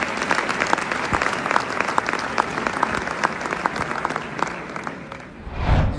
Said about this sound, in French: j'aimerais là, ici, maintenant, ce matin, applaudir ceux qui ont accepté d'être avec nous